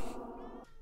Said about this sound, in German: Katze.